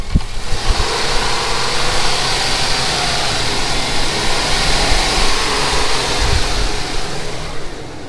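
Gas V8 engine of a 2009 Chevy 2500HD 6.0 pickup running steadily with a broad rumbling drone, loud and close, holding fairly even throughout without distinct rev peaks.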